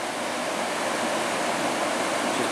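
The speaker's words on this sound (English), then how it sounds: "This is definitely the coolest waterfall so far." Steady broadband roar of a waterfall beside a hiking trail in Iceland, continuous and even with no voices.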